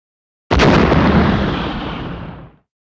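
A cannon fires in the Sonic Heroes video game: one loud, close boom that bursts suddenly, then rumbles and fades over about two seconds, with no talking.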